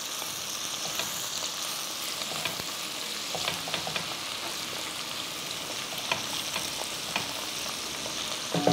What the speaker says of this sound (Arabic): حنقلب توا البصل كويس لين ياخذ هيك نكهات وطعمات بعضها بهذا الشكل